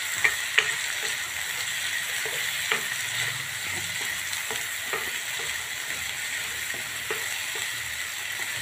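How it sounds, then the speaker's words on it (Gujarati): Suran (elephant foot yam) pieces fry in a pan with a continuous close sizzle and hiss, broken by faint ticks and soft clicks from stirring, steady and unaccompanied by speech. "તો જલ્દી ફ્રાય થઈ જાય"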